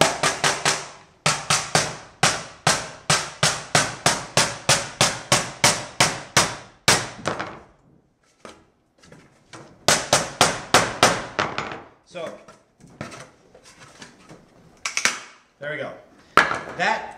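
Solid-wood and plywood double bass ribs are struck and snapped in a workshop. Runs of rapid, sharp, loud cracks and knocks come in repeated bursts, followed by scattered snaps and a few thuds.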